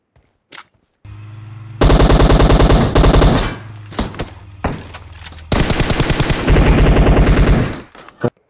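Automatic weapon fire in PUBG Mobile on the snowy Vikendi map: loud, rapid bursts of machine-gun shots, the first long and followed by a few single cracks, then another sustained burst.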